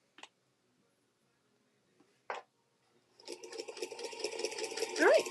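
A sewing machine stitching a quilt-as-you-go table runner, coming in after a few seconds of near silence broken by two short clicks, then running steadily and getting louder, with a voice rising over it at the end.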